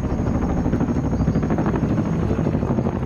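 A Soviet military helicopter roars close and loud, its rotor producing a steady, dense thumping drone that holds throughout with no pauses.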